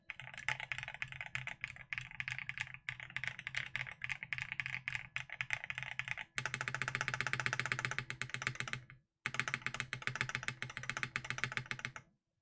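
Rapid, dense typing on a 21xx Unsaver mechanical keyboard fitted with PBT keycaps: close, crisp clacks in a continuous flurry, with a brief pause near the end before the keystrokes resume. No voices.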